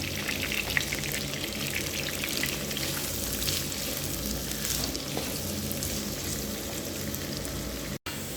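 Two large onions sizzle and fry in hot ghee, a steady crackling hiss with occasional stirring and bubbling, close and continuous, with one brief dropout near the end.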